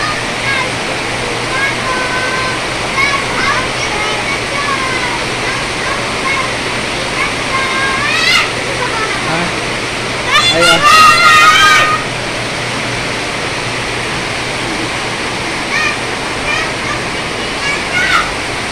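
Very heavy rain pouring down steadily, a loud continuous roar of water that lasts throughout, with brief voices and children's chatter faintly heard partway through.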